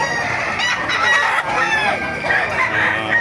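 Chickens and roosters at the Bocaue tyangge market cluck and crow over one another in a loud, close, continuous chorus of overlapping calls.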